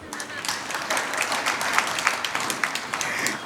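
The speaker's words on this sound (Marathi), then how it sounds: "टाळ्या इकडूनच ऐकू आल्या मला." Audience applause welcoming a speaker at a Marathi talk, a roomful of hands clapping with distinct sharp claps audible in a steady, moderately loud run.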